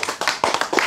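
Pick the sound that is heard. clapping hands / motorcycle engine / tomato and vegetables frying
clapping hands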